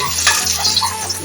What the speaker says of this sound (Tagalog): mag-igisa na po tayo ng sauce. Lagyan natin ng bawang,